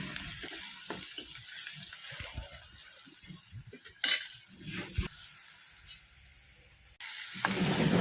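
Green chillies and onions, seasoned with a little turmeric, fry in a pan with a steady close sizzle under scraping and clattering stirs. A louder burst of sizzling swells near the end.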